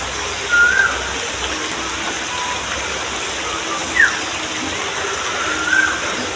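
Rain falls in a steady, even hiss that fills the whole scene, with three brief, faint bird chirps rising above it.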